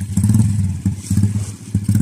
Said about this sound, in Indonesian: Ini pakai motor apa ini? Merek apa ini motornya? Shogun.